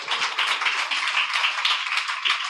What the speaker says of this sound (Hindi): जोर से एक बार ताली बजाओ